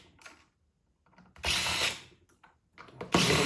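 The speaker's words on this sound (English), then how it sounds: "what I'm doing here is I'm just taking all these screws out" Power driver backing screws out of a Tesla Model X onboard charger during a teardown, with two loud whirring bursts separated by quieter clicks and handling noises, close up.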